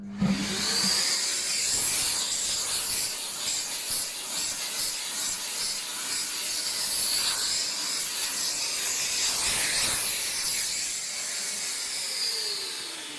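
A vacuum cleaner nozzle passes over the sanded wooden lid of a mitred keepsake box, a loud steady hissing whoosh with shifting scraping texture as it moves across the surface, no speech.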